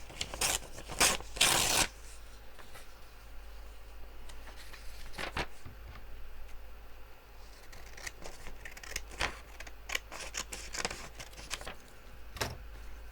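Paper is torn by hand for journal ephemera, a few sharp, close ripping bursts at the start, followed by quieter rustling and small handling noises.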